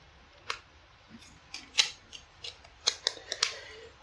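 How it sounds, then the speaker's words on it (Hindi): A battery being fitted into an itel it5026 feature phone, with a string of short, close plastic clicks and snaps spaced irregularly over a few seconds. "बैटरी इंसर्ट कर लेते हैं।"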